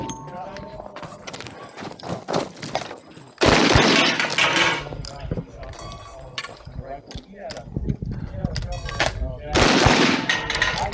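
Open-top revolvers fired in the gunfighter category of a shooting competition: loud, sharp bursts of gunfire in quick succession, separated by quieter gaps, with people talking in between.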